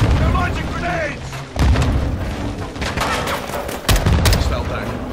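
Grenade launches and explosions in a Call of Duty: Modern Warfare II battle, heavy booms and crackling gunfire layered in a dense, loud wall of combat noise with two sharp blasts standing out, voices shouting over the fighting.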